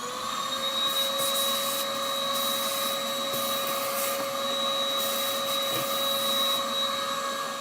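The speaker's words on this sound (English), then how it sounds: "So I'm just going to turn it on and vacuum what I can out of the oven" A vacuum cleaner cleaning out a dirty oven runs steadily with a loud whining drone, its pitch holding constant while the nozzle scrapes and bumps inside the oven's metal interior.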